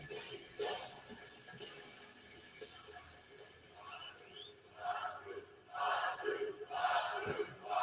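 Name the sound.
wrestling crowd cheering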